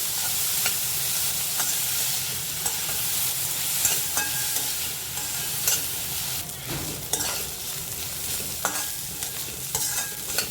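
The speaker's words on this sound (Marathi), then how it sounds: "बारीक कांदा कापला एक मोठा आहे कांदा छोटे असले तर दोन कांदे घ्या छान गुलाबी होईपर्यंत परतून घ्यायचं आहे" Finely chopped onion frying in a pan as it is stirred toward a pink color, a steady loud sizzle with scattered scraping knocks of the spoon, no voices present.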